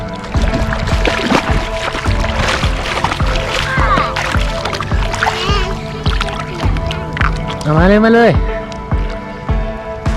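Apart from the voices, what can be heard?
toy boat carrying toy cars through water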